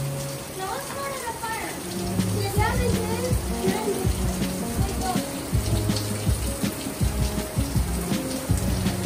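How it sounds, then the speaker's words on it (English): Water runs steadily from a natural spring at Devil's Hole along a hiking trail, a continuous close rushing and splashing that persists throughout, with people talking over it. "That's a natural spring."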